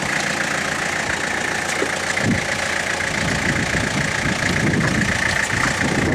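A diesel engine, started on jump leads with its injectors cracked, runs on a cold start with a steady, loud, rough idle that knocks and clatters throughout. There is no talk over it.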